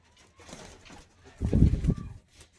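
A mixed group of male and female tournament-quality pigeons at a loft sale in Bagnan, Howrah, cooing close by in a low, throaty burst that swells midway and then fades, with no talking.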